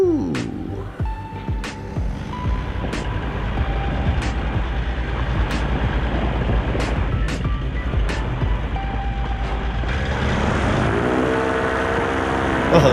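A paramotor engine on a paraglider drones under throttle with a steady buzzing whine and regular sharp ticks, and its pitch climbs toward the end as power increases.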